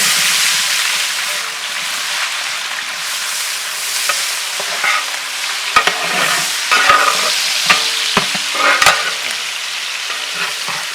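Sliced onions sizzle loudly in hot oil in a pan while being stirred for mutton biryani, a continuous fry hiss broken by sharp clacks and scrapes of the spoon against the vessel.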